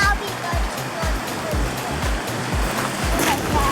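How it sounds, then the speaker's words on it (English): Broadband rushing water from a river beside a parked bus near Pulpit Rock, Colorado, steady and close, with faint low thumps recurring about every half second beneath the flow. "we're parked right next to a river"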